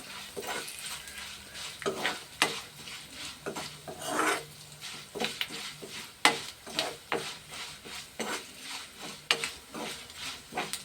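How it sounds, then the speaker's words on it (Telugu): Urad dal roasts in oil in a pan while a spoon stirs it, giving a steady soft sizzle broken by repeated scraping strokes at an uneven rhythm, close and fairly quiet. "కొంచెం దోరగా ఎగాలి పప్పు, మాడిపోకూడదు. తొందరగా ఎగిపోతుంది కదండి మినపప్పు."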